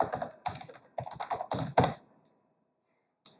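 Bursts of rapid key typing on a computer keyboard, close and clear, in several quick runs with short pauses, then a long gap and one final tap.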